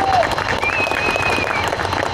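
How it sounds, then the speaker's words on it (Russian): Audience at a Karaganda regional ceremony applauds, dense steady clapping filling the whole stretch at fairly high volume with a faint crowd murmur and a brief tonal whistle-like sound over it. "такие моменты нужно сопровождать овациями"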